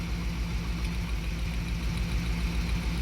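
A 1976 Dodge D100 pickup with a Mopar 440 V8 idles steadily and loudly close by, a continuous low rumble with an even throb and no talk over it.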